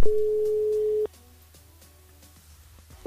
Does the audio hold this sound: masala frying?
no